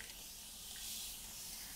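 A spray bottle mists water onto curly hair in a soft, continuous hiss, close and fairly quiet, with no distinct pauses.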